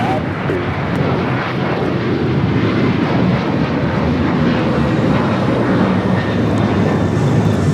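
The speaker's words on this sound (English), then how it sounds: "This takeoff is Alaska Airlines 1305 taking off to Seattle, Washington on the 737-900 ER." An Alaska Airlines Boeing 737-900ER roars down the runway on takeoff at Los Angeles International Airport, a loud, continuous broadband jet rumble with voices faintly underneath.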